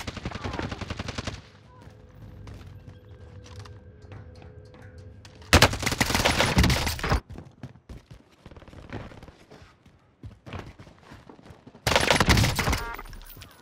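A Type 63 SMG in Warzone firing in loud, close bursts, with two long volleys separated by quieter stretches of game ambience and a brief opening burst.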